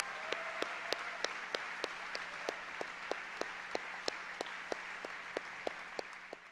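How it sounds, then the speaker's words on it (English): Audience at a high school senior recognition night applauding scholarship students, heard as steady rhythmic clapping, fairly faint and spaced evenly like a few nearby hands beating in time. "Please join me in applauding all of these students."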